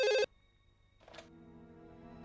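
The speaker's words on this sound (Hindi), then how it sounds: "मैं अभी एसीपी को फोन करती हूँ" A telephone rings during a call to an ACP: a short, loud electronic ring at the very start, then quiet sustained tones that fade in softly.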